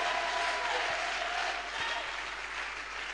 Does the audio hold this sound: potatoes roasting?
no